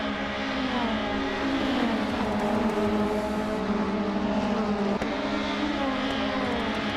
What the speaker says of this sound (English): Amy is driving a 1994 Alfa Romeo 155 TS.